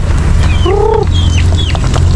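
A Rhode Island rooster crows once, loud and close, over a constant low hum, followed by a few thinner chirping bird calls, on a backyard farm.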